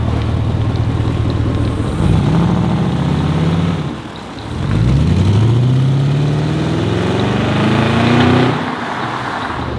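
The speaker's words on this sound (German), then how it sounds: "Boah, der klingt ja schon ordentlich im Kaltstart, ey. Hört euch das mal an." A BMW E38 735i after a cold start idles roughly, then is revved twice, the engine pitch sweeping up and settling back each time, loud and close with a deep droning undertone.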